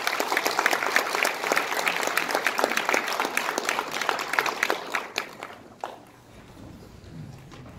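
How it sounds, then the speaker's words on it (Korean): An audience bursts into brisk, full applause to welcome a lecturer at a press center talk, the clapping holding strong for about five seconds before tapering off into a few scattered claps and room noise. "큰 박수로 환영해 주십시오."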